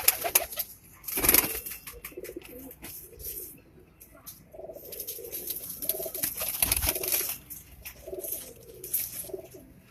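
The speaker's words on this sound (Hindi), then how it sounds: "ये कबूतर थोड़ा अलग नज़र आ रहा है" Pigeons coo in repeated soft, throaty phrases from nearby, with occasional sharp clatters and wing flaps breaking through the quiet background.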